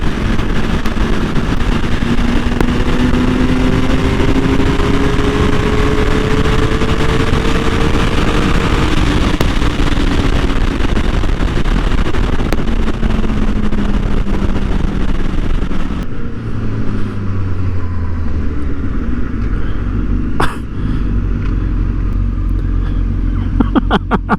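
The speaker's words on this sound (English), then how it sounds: "But Owen has a Woolwich flash on his, and a Yoshimura slip-on exhaust" A Kawasaki ZX-10R sport motorcycle with a Yoshimura slip-on exhaust roars loudly and continuously, rising and falling in pitch as it accelerates and shifts, with heavy wind rumble throughout.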